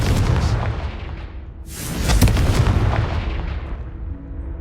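A Confringo blasting spell goes off in Hogwarts Legacy as a loud, rumbling explosive boom. A sharp fiery burst follows, then the blast tails off in a sustained roar that slowly fades.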